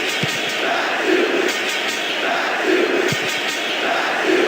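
A football crowd in the PES video game, set at the 1966 England World Cup, roars and murmurs steadily at moderate level throughout, with brief swells of reaction rising over the continuous stadium din.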